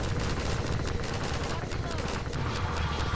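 Rapid gunfire from the video game Half-Life 2, a dense continuous barrage of shots and combat noise filling the whole stretch, with a voice talking over it.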